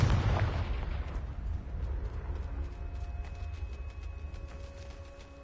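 A Confringo blasting spell explodes in the Hogwarts Legacy video game, with a sharp boom that rolls out into a long fading rumble and faint crackle.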